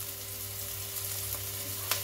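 Onions frying in a pan before pork is added, a soft steady sizzle close by with a low hum underneath and a faint tap near the end.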